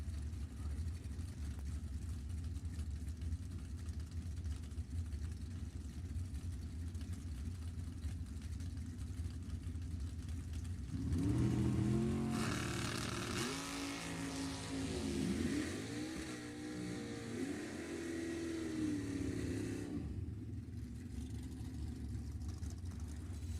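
Super Pro drag race launch with a Camaro and a Victory Chassis dragster: a steady distant engine drone, then a loud surge of revving engines from about 11 to 20 seconds before fading back to a background rumble.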